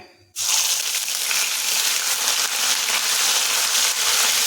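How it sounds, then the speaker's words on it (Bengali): A ginger and green chili paste hits hot oil that already holds cumin, fenugreek and asafoetida, bursting into a loud, dense, continuous sizzle after a brief quiet moment, close and steady, with no talk. "এখন এর মধ্যে দিচ্ছি আদা কাঁচা লঙ্কা বাটা"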